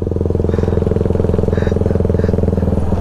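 A motorcycle engine runs close by at a steady, throbbing idle-to-cruise pace, loud and continuous for the whole stretch, with faint chatter in the background.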